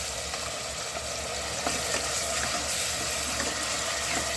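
Masala frying in hot oil inside a pressure cooker for a mutton bone soup, a fairly quiet, even sizzle with faint crackles and light stirring scrapes, steady for a few seconds without any talking.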